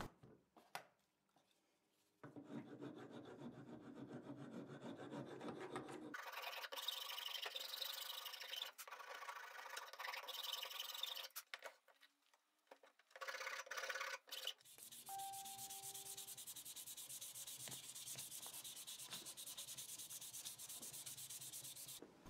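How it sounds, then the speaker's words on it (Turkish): Harsh abrasive fine sanding of a knife handle on a belt sander, starting after a brief pause and running in long continuous passes with short breaks, loud and close. "Ardından kabzanın son kıvrımlarını verip ince zımparasını geçeceğim."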